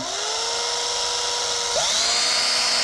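Cordless drill spinning a piece of nonwoven cloth inside a brake caliper guide, a loud steady high-pitched whine close by, with a brief pitch dip as the load shifts.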